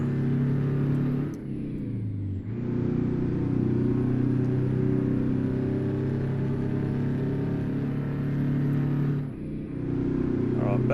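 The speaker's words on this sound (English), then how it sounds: "Get the two-stroke singing." Two-stroke truck engine in American Truck Simulator drones loudly and steadily, its pitch climbing as it revs, with brief dips between gear changes and a faint hiss on top.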